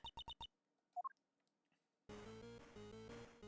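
A phone call alert in the Ace Attorney Investigations 2 video game: four quick dialing-style beeps, a pair of brighter rising tones, then a burst of game music taking over and playing loudly to the end.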